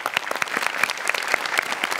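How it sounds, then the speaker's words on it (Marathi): Loud audience applause at a Marathi comedy show, a dense burst of many hands clapping close and sustained throughout. "वा, जोरदार टाळ्या."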